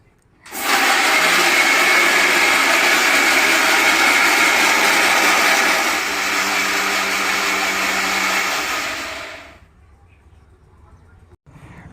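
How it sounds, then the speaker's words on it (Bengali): An electric blender grinds mustard seeds, green chilies, ginger and water into a paste. It gives one loud, continuous roar that runs for about nine seconds, shifts a little in pitch partway through, then winds down and stops, up close and with no voices. "জল দিয়ে ভালোভাবে ব্লেন্ড করে নেব। চলে যাচ্ছি ব্লেন্ড করে নিতে।"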